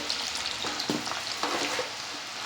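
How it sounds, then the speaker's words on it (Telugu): Oil heating in a pan before mung beans go in gives a soft continuous sizzle, with a few light stirring scrapes and taps over it, close and alone. "వేయించుకోవడం కోసం ఆయిల్ పెట్టుకున్నాను"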